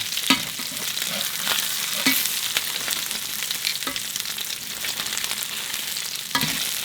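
An A5 Wagyu ribeye steak sizzles steadily as it sears in a pan, a loud, dense, continuous frying hiss with occasional sharper crackles and pops, heard alone without talking.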